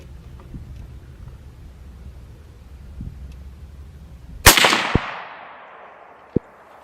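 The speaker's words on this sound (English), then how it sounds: "And let's fire another one." A CZ 527 bolt-action rifle in 7.62x39 fires a single sharp, loud shot that rings out and decays, followed by a few faint clicks and a small knock, over low background rumble.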